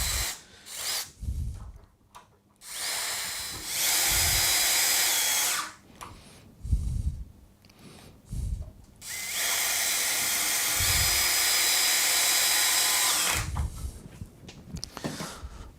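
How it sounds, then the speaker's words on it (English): A power drill whirs in several bursts while centre drilling a hinge hole with a hinge jig, two long sustained runs between shorter revs, with quiet handling noises in the pauses. "So simple centre drill."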